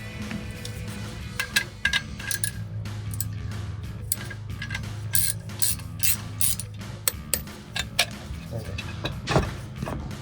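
A ratchet tightens a clamp on the exhaust pipe of a 2005-2010 Mustang V6 during an axle-back install, with repeated quick metallic clicks in bursts and clinks of parts, while a low hum runs underneath.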